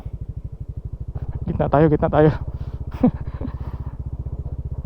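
A motorcycle engine chugs steadily with a low, even pulse while riding a narrow cemented mountain road beside a river in Antique; a voice talks over it briefly in the middle.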